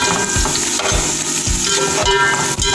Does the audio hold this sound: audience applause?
no